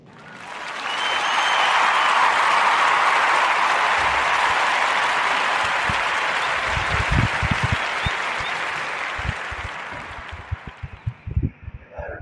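A large audience applauds loudly for several seconds, then the clapping thins out into scattered, fading claps.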